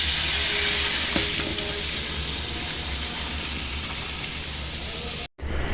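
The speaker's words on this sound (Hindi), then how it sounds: "ये देखिए गोश्त हमने इसी घी में ऐड कर दिया। ये पकना स्टार्ट हो चुका है।" Steamed dumba lamb meat fries in hot desi ghee in a karahi for Shinwari karahi, with a loud, dense, continuous sizzle that cuts out for a moment near the end.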